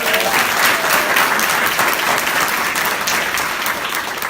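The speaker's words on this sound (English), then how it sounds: "Give her a round of applause" A crowd applauds a hospital CEO at a public gift announcement, with steady, full clapping that holds at an even level throughout.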